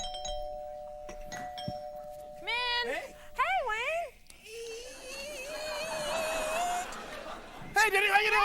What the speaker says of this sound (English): I'll bring you in with the bell one at a time